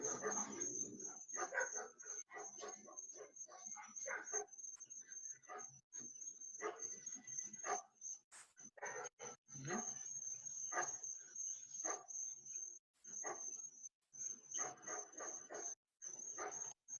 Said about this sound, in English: I got some sound effects in the back there. The dogs are going nuts.